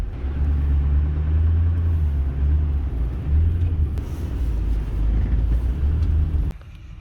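A Ford F-450 truck with a rough, unhealthy-sounding engine idles and rolls slowly in drive, giving a steady low rumble that ends with a sudden drop near the end.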